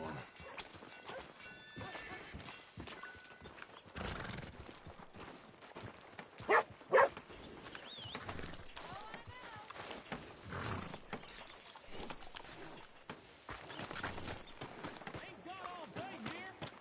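Horse hooves clip-clopping in a video game street scene, a steady rhythmic trot mixed with game ambience, with two brief sharper bangs partway through and a faint whinny-like texture in the background.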